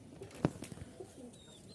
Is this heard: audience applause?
no